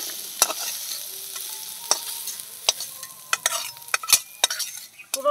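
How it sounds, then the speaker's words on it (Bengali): Fresh winter vegetables fry lightly in a pan, giving a soft sizzle under repeated sharp clicks and scrapes as a spatula stirs them at an uneven pace. "সব সবজিগুলো একসঙ্গে একটু ভাজা ভাজা করে নিয়েছি।"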